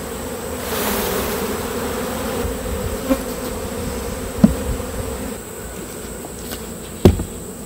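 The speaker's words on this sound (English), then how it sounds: "A lot of bees in here." Honey bees buzzing in an open hive during post-harvest summer splits and requeening: a dense, steady, close hum with a few light knocks and clicks from hive handling, no voices.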